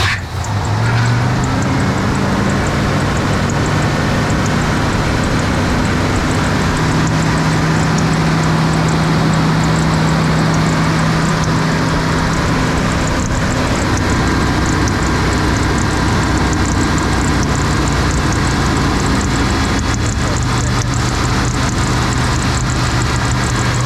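A 1991 GMC Sierra 3500 truck engine cranks and catches on its first start-up, then settles into a loud, steady, rumbling idle close by that runs on without a break.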